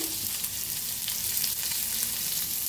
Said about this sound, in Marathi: त्याच्यात टाकूया कांदा भाजून घेऊया। सगळं भाजून घ्यायचं, हिरवी मिरची, लसूण, खोबरं वाळलं, धन आणि तीळ बी।